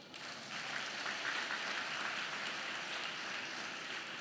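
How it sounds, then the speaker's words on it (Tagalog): Audience applause during a Filipino church preaching service, a steady broadband clapping that rises after a brief softer start and holds evenly for several seconds with no voices over it. "Baka gusto niyong pumalakpak."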